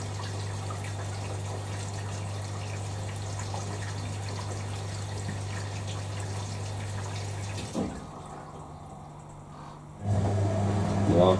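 A vintage 1980s Hoover A3060 Electronic 1100 washing machine drains water during a bedding wash, a steady hum and gurgling flow that cuts off abruptly, leaving quiet trickling before a louder rush returns.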